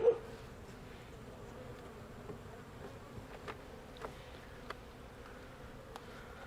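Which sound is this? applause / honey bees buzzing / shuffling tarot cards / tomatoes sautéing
honey bees buzzing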